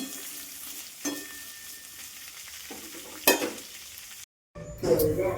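Food fries in a pan in a home kitchen with a soft, continuous sizzle and a few louder stirring bursts, a brief drop to silence, then stronger sizzling near the end; nobody speaks.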